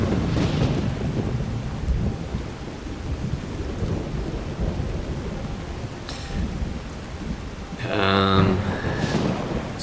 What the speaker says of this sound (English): Alright, so it's raining.